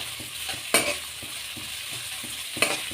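Chicken curry ingredients fry with a steady low sizzle in a pan while a spoon stirs and scrapes, two sharper scraping clatters standing out among softer periodic stirs, close and alone.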